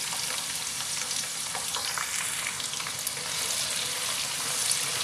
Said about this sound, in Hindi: स्लाइस में कटा हुआ एक बड़ा प्याज फ्राई होने के लिए ऑयल में डालते हैं।